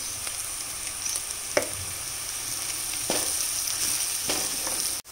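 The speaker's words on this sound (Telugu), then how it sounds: "ఉల్లిపాయలు బాగా వేగిపోయాయి, ఒకలాంటి బ్రౌనిష్ కలర్ కూడా వస్తుందన్నమాట." Onions with a spoonful of coriander powder fry steadily in a pan, a continuous close sizzle with a few soft clinks of a stirring spoon, no voices.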